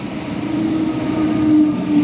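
An Intercity Hetman passenger train runs through Tarnów station with a continuous rumble of wheels on rail, brief squealing tones and a rising, nearby roll throughout, with no voices.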